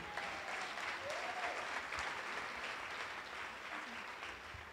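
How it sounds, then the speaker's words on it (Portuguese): A conference audience applauds steadily, a dense, moderately distant wash of clapping that holds throughout, with a few faint voices in the crowd beneath it. "uma salva de palmas para o Bob Dylan"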